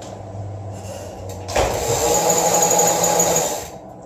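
A Penn International 50STW reel spools 150lb PowerPro braid with a loud mechanical whirring. The whir starts abruptly and runs steadily for about two seconds before fading.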